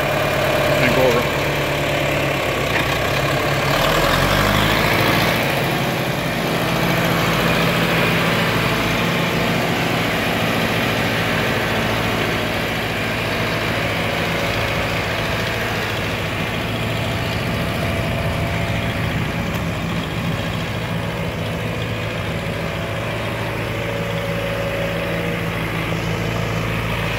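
A John Deere 3020 tractor with a loader runs as it is driven, its diesel engine giving a steady, loud, throbbing drone throughout. People talk over it now and then.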